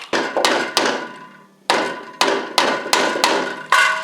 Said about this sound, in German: Wie immer hilft auch ein dezenter Hammerschlag.